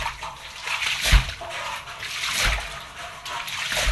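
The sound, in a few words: water splashing while washing house floor with pipe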